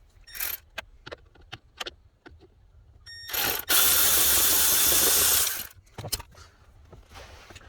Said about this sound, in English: I'm gonna go ahead and take off this T25 star bit bolt right there